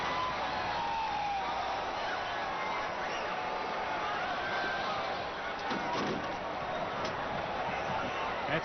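A racetrack crowd of over 55,000 at the Belmont Stakes roars in a broad, steady wash of distant noise that holds for several seconds, with a few faint voices and thuds within it.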